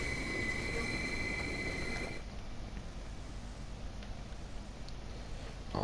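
A high-speed electric train in Train Sim World 2 on the Southeastern High Speed line rumbles steadily along the tracks at up to 225 km/h, with a faint high whine that cuts off after a couple of seconds, leaving a softer rolling hum.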